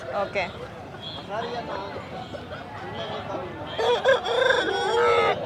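Chickens and roosters at a large poultry market in Guntur, with crowing and clucking mixed into steady market bustle as people talk nearby; the birds sound louder toward the end.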